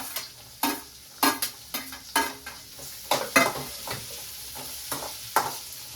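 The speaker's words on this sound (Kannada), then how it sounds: "ಅದಕ್ಕೆ ಕಟ್ ಮಾಡಿರೋವಂಥ ಈರುಳ್ಳಿ, ಬೆಳ್ಳುಳ್ಳಿ ಮತ್ತು ಮೆಣಸಿನ್ಕಾಯಿ ಹಾಕ್ಕೊಂಡು ಫಸ್ಟ್ ಹುರ್ಕೋತೀನಿ" Chopped onion, garlic and green chilli stirred in hot oil in a pan, with a steady sizzle broken by repeated scraping strokes of a spoon against the pan.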